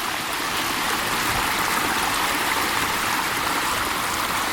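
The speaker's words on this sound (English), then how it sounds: "there's a creek up there that goes back a ways and it's spring fed" Spring-fed creek water flowing steadily in a Texas state park, a continuous close broadband rush and trickle with no voices, dense and even throughout.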